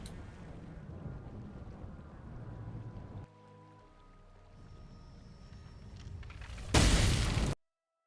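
An Oblivion gate portal in The Elder Scrolls IV: Oblivion overloads, a low rumbling hum that dips and then swells, before a loud burst of an explosion that cuts off sharply into silence.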